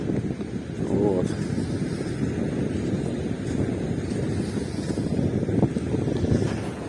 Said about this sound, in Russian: Но ветер. Ветер.